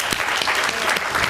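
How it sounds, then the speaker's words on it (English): Brief, fairly loud burst of audience applause at a community event with a city mayor, steady clapping from a small crowd. "Give him a round of applause"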